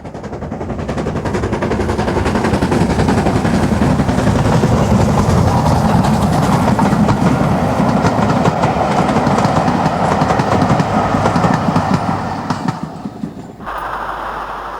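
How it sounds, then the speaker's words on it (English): A LMS Stanier Black 5 steam locomotive double-header roars past close by with rapid rhythmic chuffing and rattling wheels that build, hold loud, then fade as it moves away. "a Black 5 passes Polnish Kirk with a Caledonian observation car attached to the rear of the"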